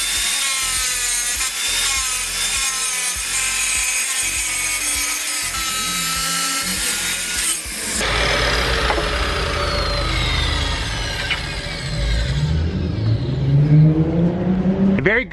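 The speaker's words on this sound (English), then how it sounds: "Miter cut, hard, 3/8 of an inch, high gloss porcelain tile." Kobalt 10-inch wet tile saw making a miter cut through hard 3/8-inch high-gloss porcelain tile, a loud, continuous grinding whine with the blade note shifting partway through as the tile is fed along, no one talking over it.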